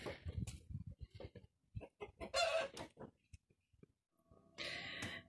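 Hens clucking and a rooster-like call in bursts, interspersed with someone talking nearby, with a louder squawking flurry near the end.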